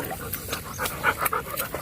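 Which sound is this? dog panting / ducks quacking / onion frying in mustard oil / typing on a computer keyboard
dog panting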